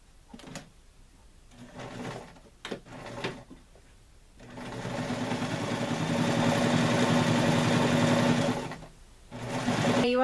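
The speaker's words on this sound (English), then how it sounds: "So what you do first is you do a straight stitch just across the width." A sewing machine running a straight stitch across fabric in colored thread: a few short stop-start bursts, then a long steady whirring run at close range, a brief pause and another run starting, with no talking.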